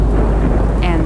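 Heavy rain pours during a thunderstorm outside a store on Main Street, a dense, loud, continuous roar with a deep low rumble of thunder underneath throughout.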